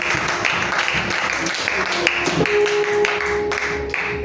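A church congregation claps and cheers for the Lord in a steady, dense wash of applause that runs throughout, with voices mixed in and a sustained tone near the end.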